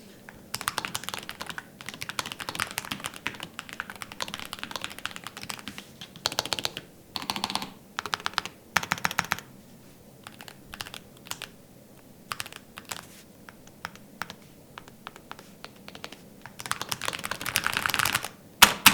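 Rapid typing on an ASUS Falcata Hall effect gaming keyboard clatters in bursts, crisp key presses and bottom-outs with short pauses between flurries, close and clear.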